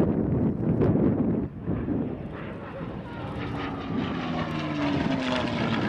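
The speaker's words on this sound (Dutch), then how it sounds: "P51 Mustang gepasseerd." A P-51 Mustang propeller warplane flies past at an air force open day, its engine a loud, steady roar with wind rumble whose pitch slides downward as it moves away over about six seconds.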